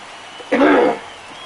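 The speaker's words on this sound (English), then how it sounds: "Had to clear my throat there." A single short, rough throat clearing from a man streaming MLB The Show 23, a gravelly half-second burst close to the microphone, alone against quiet background.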